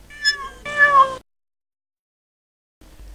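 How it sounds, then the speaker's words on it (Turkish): A cat meows twice in close succession, clear and near, with a second longer call, then quiet before a faint low rumble at the end. "Pişi."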